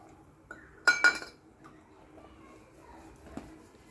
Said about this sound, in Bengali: এই গরম জলে এবার আমি দিয়ে দিচ্ছি এক বাটি চিনি